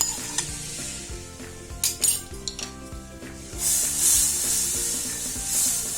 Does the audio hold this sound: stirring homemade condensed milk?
yes